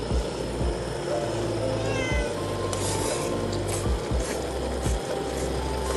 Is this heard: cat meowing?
yes